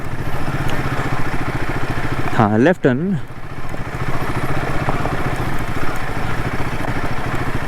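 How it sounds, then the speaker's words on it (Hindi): Vehicle descending a steep mountain road in Nepal in second gear under engine braking, a steady low engine drone running throughout with people talking over it. "हम जो हैं सेकेंड गियर पे खाली चुपचाप इंजन ब्रेकिंग पे चल रहे हैं इस वक्त"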